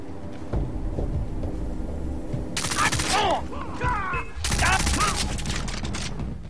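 Repeated bursts of Scorpion gunfire from Far Cry 3, the weapon taking several shots per target, with stray rounds hitting a forklift; loud clustered volleys over a steady game-ambience rumble, with talking across much of it.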